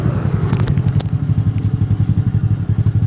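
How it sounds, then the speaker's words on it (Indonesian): A 2019 Honda Beat fuel-injected scooter idles close up with a rapid, even pulsing putter and some light clatter. The engine is known for sluggish throttle response and hard starting. "masalah motor Honda Beat tahun 2019 yang mengalami gasnya sering terasa telat"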